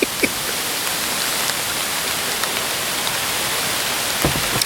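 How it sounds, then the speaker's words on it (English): Steady outdoor rainfall, an even close hiss with occasional sharper drips and taps, no voices. "Sitting out here in the rain drinking a beer."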